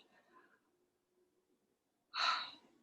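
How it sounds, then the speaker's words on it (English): A single sharp, breathy exhale through the mouth comes close and loud after a faint, quiet stretch of softer breathing, during a pranayama breathing exercise. "so everybody's still breathing through their mouth and out."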